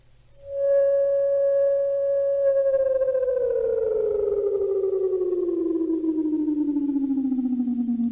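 Israel's emergency alert alarm sounds as one loud, sustained electronic tone that holds steady for a couple of seconds and then slowly slides downward in pitch, continuing alone for about seven seconds.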